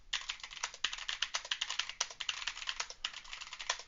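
Rapid, irregular clicking of keys on a computer keyboard during a programming workshop, close and crisp with no talk over it.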